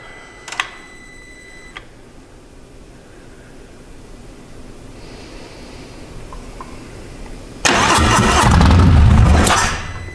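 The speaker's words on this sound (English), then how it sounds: "the bike will start and run and die" A Harley-Davidson Milwaukee-Eight motorcycle with its fuel pump disconnected: a few ticks and clicks, then the starter catches and the engine fires loudly up close, runs roughly for about two seconds and dies.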